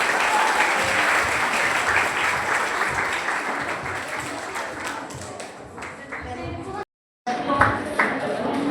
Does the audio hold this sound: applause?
yes